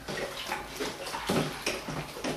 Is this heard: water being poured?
yes